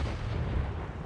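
Artillery shot from a Grille tank destroyer in World of Tanks, heard as a dense, sustained low rumbling boom that fills the whole moment at moderate loudness with no pauses.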